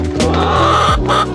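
Several chickens cluck and murmur close by in a short, busy burst of overlapping calls.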